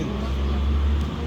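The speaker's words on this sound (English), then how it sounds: "Very loud bin truck." Heavy garbage truck rumbling past on a street in Benidorm, a loud, steady low engine drone filling the whole moment without a break.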